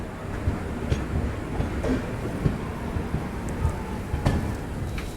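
The Paschim Superfast Express pulls out of Karnal railway station in Haryana, heard from aboard as a continuous rumble with rhythmic clickety-clack of wheels over rail joints and occasional thumps, steady and close.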